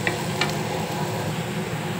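Onions frying in a kadhai for kadhai paneer give a steady, close hiss of sizzling oil, with a couple of faint metallic clinks near the start.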